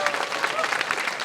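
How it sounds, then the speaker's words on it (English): Audience applause at a furry convention opening ceremony, a dense steady wash of clapping from a crowd indoors, fairly loud and continuous throughout. "Give us a round of applause"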